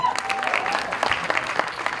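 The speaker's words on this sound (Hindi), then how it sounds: "भूषण जी, इसके लिए एक बार जोरदार ताली होनी चाहिए" A crowd claps at a Bollywood film teaser launch event, a brief, dense patter of hands that holds fairly steady, with faint voices mixed in.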